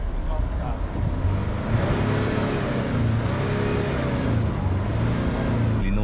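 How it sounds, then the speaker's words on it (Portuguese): A 2018 Range Rover Sport V6 with 48,000 km is revved up close, its engine rising and swelling in several steady throttle blips with a smooth, muted tone rather than a harsh growl. "Vou dar uma aceleradinha nela aqui para vocês poderem ouvir"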